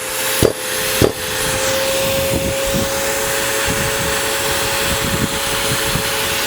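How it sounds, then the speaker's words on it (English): A steady, loud mechanical whine of two vacuum cleaners used for core drilling drones on continuously, with a couple of sharp clicks near the start. "switch on vacuum number 1"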